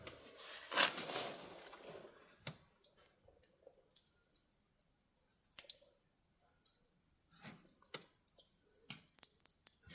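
Water drips from the engine oil of a previously seized International TD-6 crawler tractor: a louder splash at first, then sparse, irregular small drips and clicks, close and quiet.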